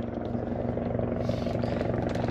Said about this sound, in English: We're not going to get a break from the helicopter, though.